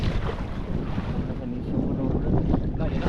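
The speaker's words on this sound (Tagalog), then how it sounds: "Hangin na, hangin na, hangin na." Gusty wind buffets the microphone outdoors in a low, rumbling, uneven rush that stays close and fairly loud, with faint voices underneath.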